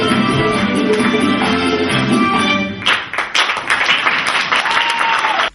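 Spectators applaud after Abkhaz students of the Saint Petersburg Institute of Culture perform an Abkhaz dance. Music fades, then loud, warm clapping from the crowd breaks out and continues before stopping abruptly.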